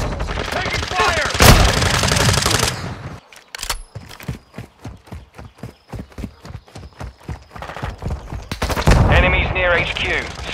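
Gunfire in Call of Duty: Modern Warfare II during an HQ capture match, with loud bursts at the start and end and a stretch of rapid, evenly spaced shots between them, with some talk over the action.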